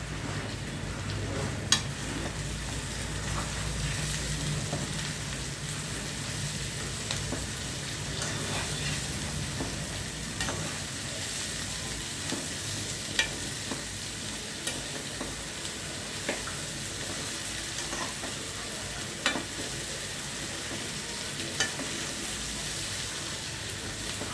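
Bitter gourd pieces fry in a pan for a tamarind stew, a steady broadband sizzle running throughout with faint scraping clicks from stirring scattered across it, no voices.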